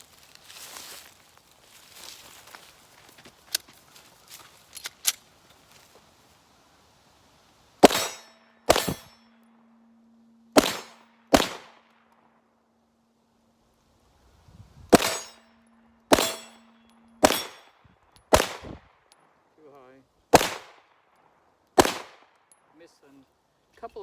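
Handgun shots from a pistol fitted with an RMR Type 2 RM07 red dot sight and aftermarket grips, fired at targets: about a dozen loud, sharp reports in irregular pairs and singles, with faint metallic clangs and handling noise between them.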